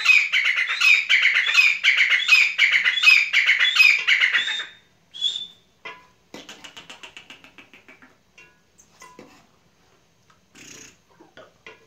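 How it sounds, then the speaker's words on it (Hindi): A pet partridge kept in cold weather gives a rapid run of loud, repeated whistling calls, then a few scattered, fainter chirps and squeaks as it quiets down. No voices. "तो ये मेरा बगड़ा तितर है"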